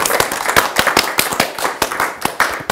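An audience applauds a prize winner at a Ma thèse en 180 secondes regional final, brisk close clapping with sharp individual hand claps standing out from the crowd.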